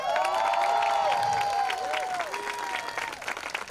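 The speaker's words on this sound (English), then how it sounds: "Check out that applause." Audience applause at a high school graduation ceremony, moderately loud and continuous, tapering slightly toward the end, with bright tonal ringing sounds layered over the clapping.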